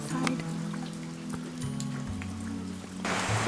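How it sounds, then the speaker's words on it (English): Heavy rain pouring outside a hostel at Fox Glacier, New Zealand, a constant dense patter close by with a low engine-like hum underneath and no speech. "it's raining like crazy"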